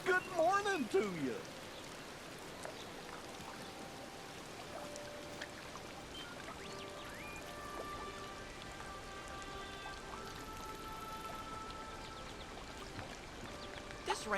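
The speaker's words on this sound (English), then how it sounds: "This rain won't stop my fun." Steady rain falls in the Disney Dreamlight Valley video game, a constant patter filling the whole stretch, with soft game chimes and tones layered on top and a brief voice at the start.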